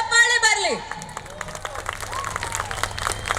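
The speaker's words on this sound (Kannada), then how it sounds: "ಜೋರ್ ಚಪ್ಪಾಳೆ ಬರಲಿ." A crowd at the Sirsi Utsava 2025 stage festival breaks into applause, a diffuse wash of clapping that swells after a voice speaks and continues beneath it.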